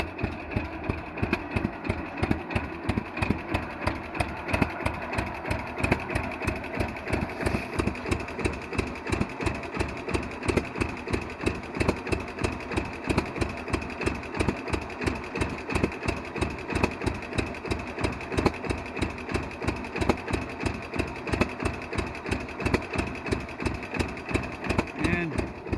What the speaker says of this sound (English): that's how these old guys idle.